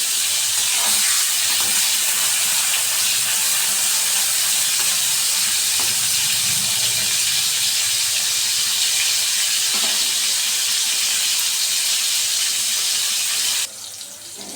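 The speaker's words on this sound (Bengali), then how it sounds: "এই যে বেগুনটাকে আমি একটু ভেজে নেব, হালকা করে একটু ভেজে নেব।" Eggplant slices fry lightly in hot oil, a dense, steady broadband sizzle that stays loud and unbroken, with a few faint clicks, then drops slightly at the very end. No one speaks.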